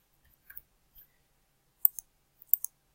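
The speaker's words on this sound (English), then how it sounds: "So let's just type in John Doe" Light keyboard clicks tap out a name into an online form, a few sparse sharp keystrokes in small clusters, close and quiet with no talk.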